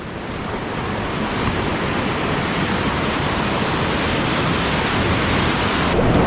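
The whitewater rapid drop of Slaughter Sluice on the North Fork American River roars as a loud, steady wash of churning water that builds slightly toward the end, with no talk.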